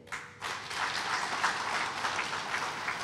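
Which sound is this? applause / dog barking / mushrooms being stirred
applause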